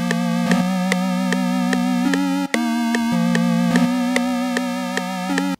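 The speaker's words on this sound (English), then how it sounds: "I made this preset on Repro 5." Synth preset built on the Repro-5 plugin, a bright buzzy sustained tone with steady rhythmic pulses over a held low note, loud and continuous with a brief cut midway.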